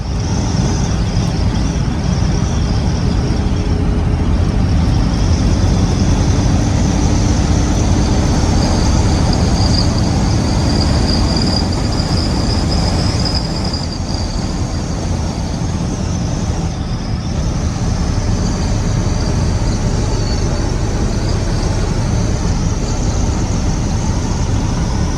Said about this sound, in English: made the loop in the C10